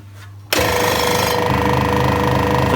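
A scroll saw cutting wood in a home workshop starts up abruptly, a loud, steady, close mechanical buzzing and rattling hum of the reciprocating blade that holds unbroken to the end.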